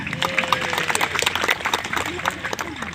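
Audience clapping at a maulid gathering in honor of the local babinsa, a steady crowd applause with scattered cheering voices and background chatter throughout.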